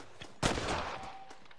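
A rifle shot fired at a deer during a hunt in the game Red Dead Redemption cracks out loudly once, then rolls into a decaying reverberant boom, with fainter game sounds around it.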